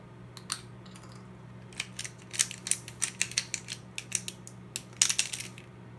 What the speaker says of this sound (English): And a little bit of freshly ground white pepper.